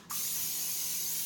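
Spray butter hisses out of a can into a cooking pan in one steady, close burst that starts almost immediately and runs unbroken to the end, with no talking.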